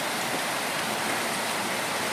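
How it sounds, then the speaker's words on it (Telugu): Heavy rain falling in Hyderabad in the afternoon, a dense, steady roar of downpour at constant loudness throughout, with no other sounds or voices. "చూడండి, కొంచెం కూడా ఎండలేదు, మొత్తం వర్షమే, పెద్ద వర్షం."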